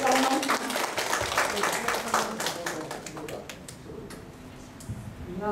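An audience at a Nanjo city citizens' meeting and workshop claps in a dense burst that gradually thins and fades over a few seconds, moderately close, with a faint voice near the end.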